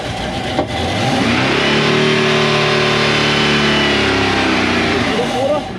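A 1UZ V8 engine in a sterndrive boat cranks over, catches and settles into a loud, steady running drone with rising harmonic tones, close by and continuous.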